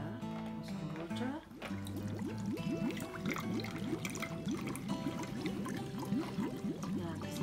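Water poured steadily into a container for a homemade lava lamp, a continuous liquid splashing and trickling under the voices of people talking throughout.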